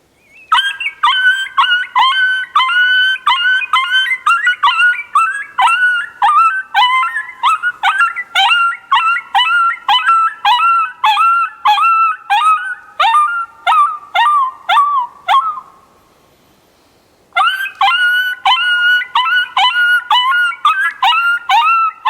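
An MFK BlackOut coyote howler predator call is blown to imitate an adult coyote: a long, loud, close series of rapid wavering yips and howl notes that pauses briefly near the end and then resumes, with no talking.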